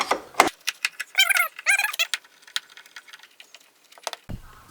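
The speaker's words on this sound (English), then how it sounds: "the first trim piece we're going to take off is the seal plate" Plastic interior seal plate trim being pried off a car, a run of sharp clicks and clacks with two longer scraping rattles, close and alone with no talk.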